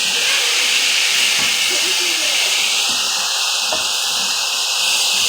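Fresh portobello mushrooms sauté in a pan with a loud, steady hiss and sizzle. Occasional soft scrapes and knocks sound underneath.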